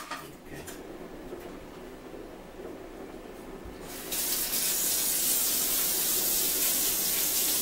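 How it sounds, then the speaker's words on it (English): A kitchen faucet is turned on partway through, shifting from quiet room noise with faint clatter to a loud, steady rushing spray of water that fills the rest of the clip. "here, turn on the water"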